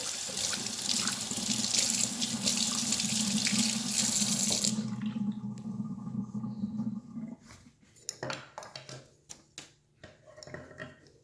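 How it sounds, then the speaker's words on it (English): A kitchen tap runs hard into a sink as a date syrup container is rinsed, a loud steady gush for about five seconds, then scattered clinks and knocks of the container and dishes. "So that is the date syrup. Rinse that off."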